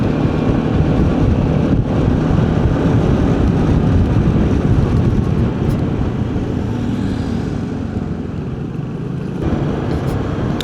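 Yamaha XMAX 250 scooter engine easing off the throttle while riding a mountain road, a steady broadband engine and wind roar that holds loud and close throughout with no speech.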